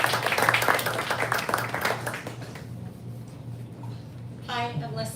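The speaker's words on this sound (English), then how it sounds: "I want to give a big round of applause to these writers." Audience applause at a bookstore live poetry reading, a dense wash of clapping that fills the room before thinning out. A voice speaks near the end.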